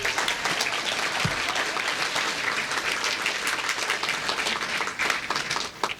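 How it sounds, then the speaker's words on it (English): Sustained applause from a large audience at an eighth grade graduation, dense and even clapping filling the whole stretch without pause. "Let's give them a round of applause."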